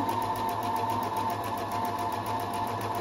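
A Husqvarna 330 electronic sewing machine runs a zigzag stitch on viscose fabric, a continuous close, steady mechanical hum with a fast regular needle rhythm that keeps going throughout.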